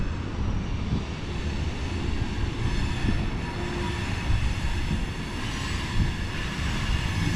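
A train passes through Matewan, West Virginia, as a steady, loud, broad rumble that holds for the whole stretch, with no voices.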